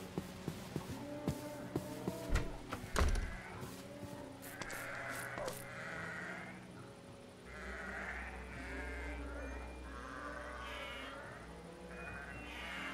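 Sheep bleat repeatedly in the Minecraft video game, a run of wavering, nasal bleats close up over faint ambient game sound.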